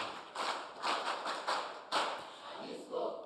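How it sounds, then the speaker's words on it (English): Applause from an audience at a STEM promotion roadshow event, greeting a member of parliament; scattered hand claps swell in a few uneven bursts, moderately close and fairly soft, with no talking over it. "Please, a round of applause for him."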